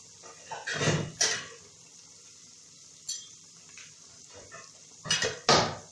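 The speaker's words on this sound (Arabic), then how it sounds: "انا هحط الغطا كده اهو" A lid goes onto a pot of frying chicken with a few clanking metal knocks and scrapes, close by, separated by quiet stretches of low sizzling.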